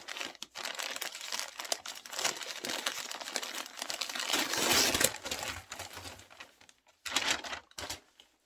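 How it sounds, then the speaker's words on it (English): A plastic-wrapped clothing bundle from a Stitch Fix box is torn open, giving close, busy crinkling and rustling that swells midway, pauses briefly, then returns in a short final burst. "let's tear the next bundle open"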